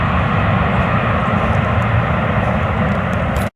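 Fixed-wing airliner passing unseen overhead through thick fog near Cleveland, a continuous loud engine roar with a broad low rumble, steady throughout before a brief dropout at the end.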